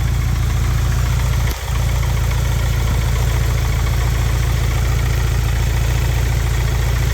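Car engine fitted with a new Chinese-made distributor idles steadily and loudly, a constant low rumble with a brief dip partway through, no voices.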